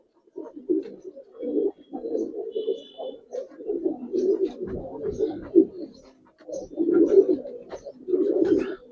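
Giribaz coloring pigeons coo in repeated soft throaty bursts, close by and steady, with brief pauses between phrases and a faint chirp now and then.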